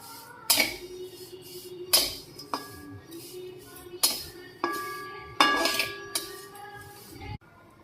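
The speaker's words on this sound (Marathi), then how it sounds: "आता याला मी खालीवर खालीवर करून भाजून घेणार आहे" Fine vermicelli roasting in a pan while a metal spoon stirs and scrapes, giving a series of sharp clinks and knocks against the pan at irregular intervals, close and clear with no talk.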